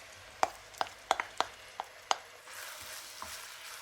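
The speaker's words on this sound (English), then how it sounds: "In a medium heated wok pan, add a 1/4 cup of oil and introduce 2 chopped onions." Two chopped onions dropped into a quarter cup of oil in a medium-heated wok: several sharp utensil taps and clicks in quick succession, then a soft steady frying hiss rising in the background.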